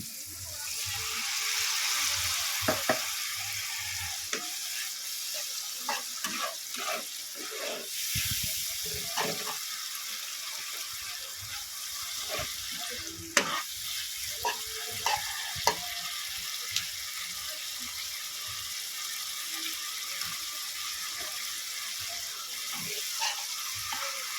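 Spice paste with tamarind and a little water sizzling in a pan while making achari brinjal, a steady soft hiss broken by scattered clicks and scrapes of stirring throughout.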